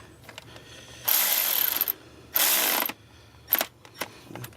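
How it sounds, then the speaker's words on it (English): A Milwaukee cordless tool tightens the power steering pump pulley on a 2007 BMW 323i. It gives two sustained ratcheting bursts of about a second each, then a few short clicks and blips, close and fairly quiet, with no talk. "in tightening your pulley, use your Milwaukee cordless."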